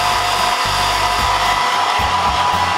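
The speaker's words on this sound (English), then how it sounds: "Let's use a hairdryer!" A hair dryer blows continuously with a loud, steady airy roar and a faint hum, close by and uninterrupted.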